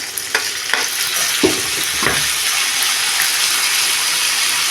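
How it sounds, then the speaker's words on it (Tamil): Tomato sizzles in a pan with sautéed shallots and curry leaves for a chicken pepper fry, a loud, steady frying hiss broken by a few quick scrapes of the stirring spoon near the start. "போட்டதெல்லாம் வதங்கிடுச்சு கொஞ்சம் தக்காளி போட்டுக்கிறோம்"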